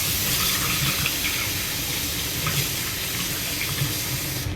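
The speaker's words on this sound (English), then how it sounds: "I'm gonna go ahead and wash my hands." Steady running tap water splashing into a kitchen sink during hand washing, continuous and close, with faint hand movement in the stream.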